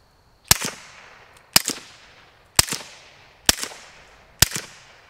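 Five Glock 19 pistol shots through a wet Silencerco Octane 45HD suppressor, evenly spaced about a second apart, each a sharp suppressed crack with a short tail, close and fairly loud against a quiet background.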